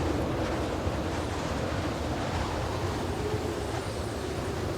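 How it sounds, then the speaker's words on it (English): Strong wind rises over the Arctic as a dense, steady roar of gusting air buffets close by. The rushing noise runs throughout without a break, and no voices are heard. "When we finish, the sky darkens and the wind rises."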